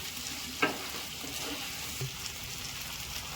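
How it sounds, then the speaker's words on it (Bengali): Ghugni cooking in a pan with mutton fat gives a steady low sizzle, with a couple of soft scraping knocks as it is stirred. "এটাকে সুন্দর করে একটু নাড়িয়ে নিই।"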